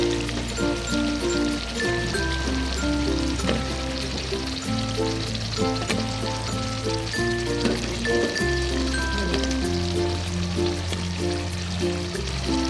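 Potatoes going into a hot pan of softened carrots and peas for aloo gajar matar, giving a steady close sizzle and frying crackle that runs throughout under a music bed.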